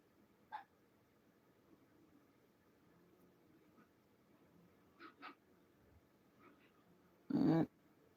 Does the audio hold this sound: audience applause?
no